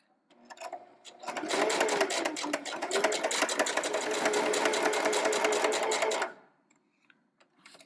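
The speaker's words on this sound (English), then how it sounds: "sew our last seam. Okay, our last seam for this rail fence quilt block." A sewing machine runs one continuous burst of about five seconds, sewing the last seam of a rail fence quilt block, with a fast, even whir that starts and stops cleanly in a quiet room.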